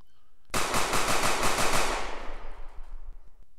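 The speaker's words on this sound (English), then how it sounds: "So dropping shell cases as we're firing." Rapid automatic-sounding pistol fire in an Unreal Engine 4 heist game, a dense burst of evenly spaced shots for about a second and a half, then a long ringing tail as the volley dies away.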